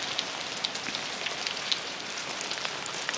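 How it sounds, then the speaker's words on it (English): Steady rain falls outside near a river house, a close, even hiss with scattered sharper drops hitting surfaces, heard alone without talk. "Listen to all this rain."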